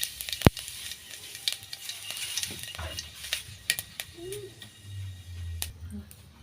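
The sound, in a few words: panch phoron spices sizzling in hot oil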